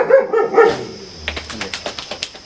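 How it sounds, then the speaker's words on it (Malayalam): A female Caravan Hound on a farm lets out a short burst of three or four close barks, followed by quieter ticking and scuffling sounds. "Caravan hound."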